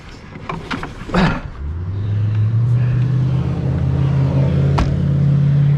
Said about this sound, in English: Hear that rumble of the exhaust of the Firebird?